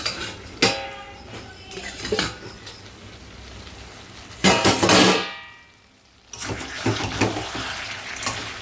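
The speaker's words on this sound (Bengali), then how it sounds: "এখন আমি ঢাকনাটা খুলে দেখব আবার।" A metal lid comes off a cooking pot of simmering goat meat curry in a home kitchen, with clanks and scrapes of metal against metal and a burst of bubbling and sizzling from the uncovered pot.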